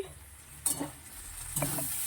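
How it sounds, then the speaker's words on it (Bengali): Potatoes and onions sizzle steadily in a frying pan, with two sharp scraping stirs of a utensil against the pan. "আলু পেঁয়াজ ভাজাটা বসিয়ে দিয়েছি"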